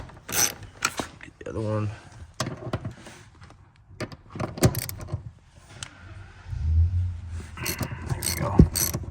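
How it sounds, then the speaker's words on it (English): A ratchet loosens the seat bolts in a BMW F3X, with bursts of clicking and metallic clatter close by, separated by pauses, and a brief spoken remark partway through. "I'm gonna go ahead and loosen them up"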